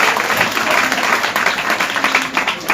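An audience claps loudly at a mind-power seminar, with a dense, continuous round of applause that stays close and even throughout.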